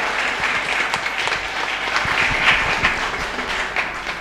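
Sustained applause from a large church congregation during a flag-hoisting Mass at St. Anthony's Church, steady dense clapping throughout at moderate volume with no talking.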